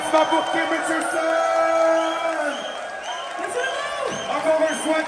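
An audience applauds and cheers for a singer at a live show, the crowd noise swelling under a loud host's voice that carries on over the clapping and whoops.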